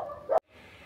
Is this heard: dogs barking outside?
yes